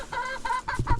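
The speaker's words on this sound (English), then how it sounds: "the chickens are nosy little blighters, aren't you?" Young chickens about twelve weeks old cluck close by in a backyard flock, four quick, evenly spaced nasal calls in a row, loud and clear with no talking.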